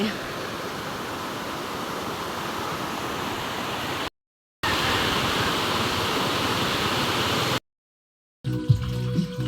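Running water at a village laundry washing spot rushes in a loud, continuous hiss, broken by two short silent gaps. A brief stretch of other sound follows at the end.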